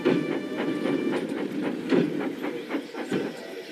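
Train wheels clattering over rail joints in the Roblox game, with a steady run of rhythmic clickety-clack beats and a low rumble, loud and close, continuing for several seconds with no talking.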